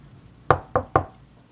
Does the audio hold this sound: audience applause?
no